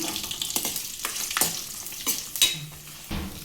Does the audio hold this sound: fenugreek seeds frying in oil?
yes